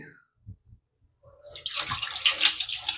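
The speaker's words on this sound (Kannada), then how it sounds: "ಅದಕ್ಕೆ ಇದ್ರಾಗ ನೀರು ತುಂಬಿ ಇಡಾಕತ್ತೀನಿ" Water pours into a container at home, beginning after a few soft knocks and a short pause, then running as a steady, close splashing stream.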